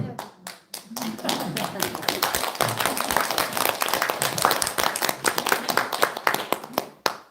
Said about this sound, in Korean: 이분 왜 박수 치는 거예요?